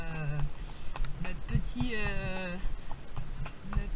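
Horse hooves clip-clopping along a trail ride, a steady walking rhythm of soft knocks heard close under ongoing talk and occasional voiced sounds.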